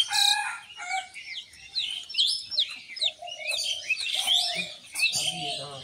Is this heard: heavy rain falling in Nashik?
no